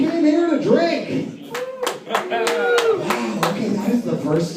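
Audience at a comedy night in an Irish pub claps and whoops loudly for several seconds, sharp bursts of hand claps rising and falling with cheers over a steady crowd roar.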